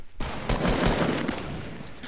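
Gunfire erupts in a shooter game, with a sniper rifle in use. A sudden loud blast is followed by a rough, rattling burst of further reports that fades slightly toward the end.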